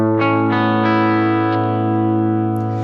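A distorted electric guitar through a Boss GX-10 processor strums sustained chords that ring out and wash into a long, spacious reverb tail, loud and alone.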